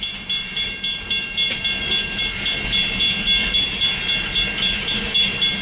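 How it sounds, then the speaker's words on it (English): Locomotives pulling a train along rails produce a loud, steady clickety-clack of wheels over rail joints, with regular rhythmic beats about every third of a second over a continuous rumble and a high whine. "I guess they're gonna pull a train back south."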